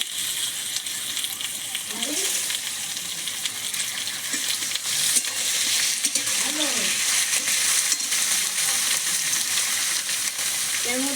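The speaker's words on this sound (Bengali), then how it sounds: "পেঁয়াজের সঙ্গে চিকেন একটু ভেজে নেবো" Chicken frying with chopped onions in a pan, a loud, dense sizzle that runs steadily throughout with occasional stirring scrapes and faint clinks close by.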